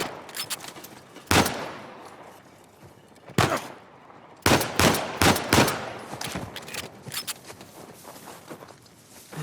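Sharp, loud gunshots from Uncharted 4 crack out in separate bursts, a few isolated shots followed by a quick cluster, with rustling movement and footsteps filling the gaps between them.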